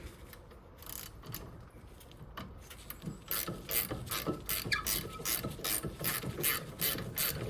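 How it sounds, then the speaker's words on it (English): A small hand ratchet loosening the front brake caliper bolts on a 2013 Nissan Micra, giving rapid close clicking pawl strokes that grow louder and denser in the second half. "Maybe I'll just use my small ratchet here."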